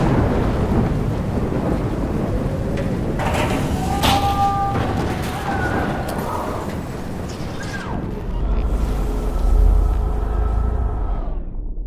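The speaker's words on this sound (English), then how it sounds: "Right into the eye of the storm." Thunderstorm in the video game Life Is Strange: loud, continuous rumbling thunder and pouring rain, with a heavy low boom swelling near the end and brief tonal game sounds in the middle.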